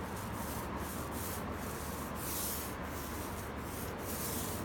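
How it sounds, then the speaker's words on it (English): Hand sanding on a fiberglass hull of a 1980 AMF Sunfish Viper boat after a 100-grit orbital pass, with steady rhythmic back-and-forth rubbing strokes, close and fairly quiet with no talking. "Come back and hit it again with just some hand sanding, some spot areas."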